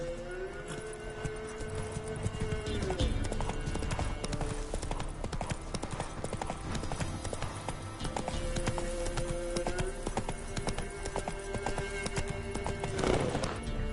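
Galloping horse hooves in The Witcher 3, a dense, continuous close clatter with a neigh or whinny, under a tonal game score.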